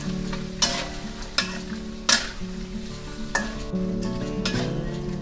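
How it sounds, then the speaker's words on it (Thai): Banana chips fry in butter in a pan while being stirred, producing a steady sizzle broken by several sharp scrapes and clinks of the utensil against the pan. "เสร็จแล้วก็ให้เรา ค่อยๆผัดไปให้ทั่วแบบนี้เลยนะคะ"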